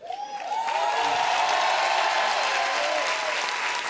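An audience at a cabaret show breaks into loud, sustained applause, a dense wash of clapping that swells quickly and holds steady throughout, with a voice audible near the start.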